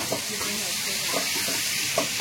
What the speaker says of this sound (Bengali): এদিকে কড়াইয়ে তেল দিয়ে পেঁয়াজ বাটা দিয়ে দিচ্ছি